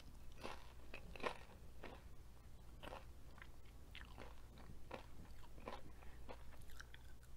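Close, repeated crunchy bites and chewing from a mukbang of nachos with strawberry, avocado and fried zucchini, irregular crisp crunches over a low steady hum, with no talking.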